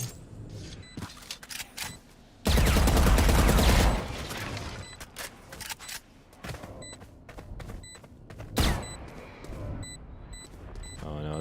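Gunfire in a Valorant match: a loud, dense burst of automatic fire lasting about a second and a half, followed later by a sharp single shot, all amid game noise and players' voices.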